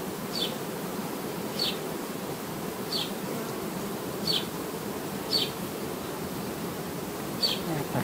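A dense, steady hum of many honeybees buzzing close up in an open hive, with a few individual bees droning louder past at intervals.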